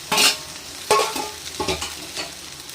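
Cooked rice is stirred into a pan for lemon rice over a very low flame, with three or four distinct scraping stirs and a faint sizzle up close.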